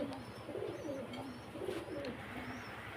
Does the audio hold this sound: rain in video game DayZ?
no